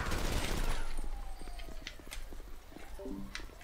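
Gunfire in a GTA 5 roleplay police shootout starts with a loud rapid burst of shots, then gives way to scattered sharp cracks and clatter. A short voice is heard near the end.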